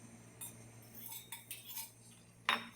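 A spoon stirs iced Nescafe coffee with cold milk and ice in a glass, giving a handful of scattered light clinks, with one sharper knock near the end, against a quiet background.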